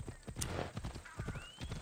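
A galloping horse in Assassin's Creed Odyssey drums out a fast, steady run of hoofbeats, with a faint whinny near the end, close and alone with no speech.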